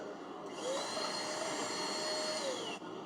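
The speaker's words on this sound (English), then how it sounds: "This blower right here is no joke." A Wahl hair blower at a barber station runs steadily at close range with a high whine and a rushing airflow, starting up after a brief moment and cutting off near the end.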